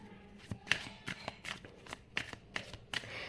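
Tarot cards are shuffled for a reading, with quick soft riffles and slaps repeating in an uneven rhythm, close and fairly quiet.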